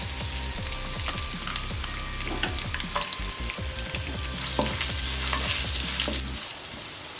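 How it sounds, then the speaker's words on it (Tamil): Finely chopped ginger and garlic sauté in a hot kadai with oil, a loud continuous sizzle and crackle close up, broken by repeated scraping strokes of a spatula stirring, and no voices. "அடுத்ததாக அதே கடாயில் இஞ்சி, பொடியாக அரிஞ்ச இஞ்சி, பொடியாக அரிஞ்ச பூண்டு ரெண்டுத்தையும் சேர்த்து வதக்கிக்கலாம்."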